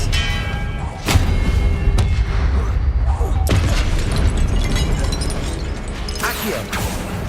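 Confringo, the fiery blasting spell in Hogwarts Legacy, goes off as a few sharp booming bursts spread through a busy, rumbling game soundscape, each hit loud and close.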